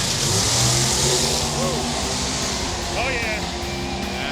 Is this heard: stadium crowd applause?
no